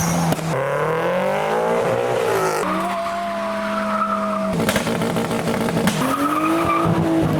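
Performance cars pull out of an Evo meet exit one after another, engines revving hard with rising and falling pitch as tyres chirp and squeal, loud and close in a rapid sequence of passes.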